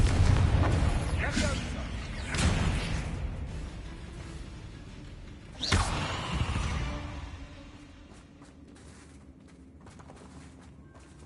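Fiery Confringo spell blasts in the Hogwarts Legacy game, a couple of loud bursting booms a few seconds apart over a busy background of game sounds, fading into quieter ambience.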